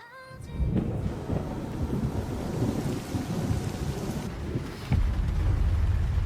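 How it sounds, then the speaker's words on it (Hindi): Heavy rain shower pouring down with a low thunder rumble, a steady close wash of drops that swells slightly toward the end. "बारिश अचानक से कहाँ से आ गई?"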